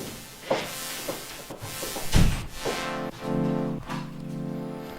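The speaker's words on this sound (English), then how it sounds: "what you hear is the cutoff goes like bam and then up again" A Korg Electribe 2 synthesizer pad plays sustained chords while its filter cutoff repeatedly drops sharply and sweeps back up, giving bright, swelling bursts at a moderate, close-up level.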